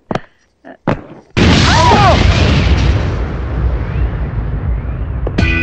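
A small bomb goes off inside a suitcase in a comedy film scene: a few brief knocks, then a sudden loud boom that rolls into a long, rumbling, crackling decay.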